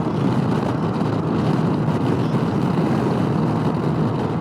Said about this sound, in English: That was a gust.